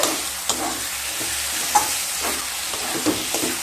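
Fried onion with poppy-seed paste is stirred with raw mustard oil in a hot pan, giving a continuous close sizzle broken by regular spatula scrapes against the pan.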